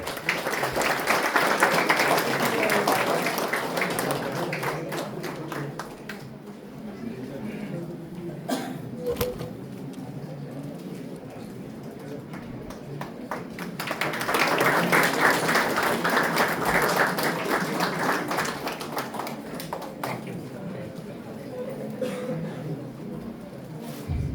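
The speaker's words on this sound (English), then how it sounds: "Please give them a huge round of applause" Audience applause at a college valedictory ceremony during a felicitation with shawls and bouquets: two sustained rounds of clapping, loud at the start, easing off, then swelling again midway before fading.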